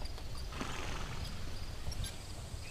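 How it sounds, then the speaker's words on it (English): A horse in an old Western setting moves quietly, its hooves clip-clopping in a faint, loose rhythm under a soft background hiss. "And this is my horse, Herman."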